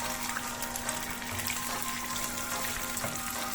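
Eggs frying in a pan give a steady, soft sizzle and crackle that stays even and close throughout, with no talking.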